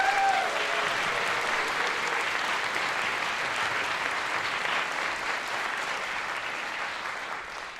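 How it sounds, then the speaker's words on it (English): Steady, dense applause from a concert audience at a symphonic band and choir performance, loud and continuous throughout, tapering only slightly toward the end. "Give that whole list a big round of applause."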